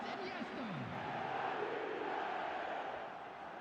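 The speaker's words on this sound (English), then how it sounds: "The crowd are calling for this to be put to bed." A stadium crowd in an eFootball match of Barcelona play cheers and chants as a continuous wash of noise, with commentary heard lightly over it.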